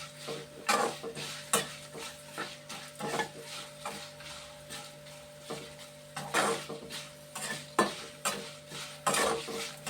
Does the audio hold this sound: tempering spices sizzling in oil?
yes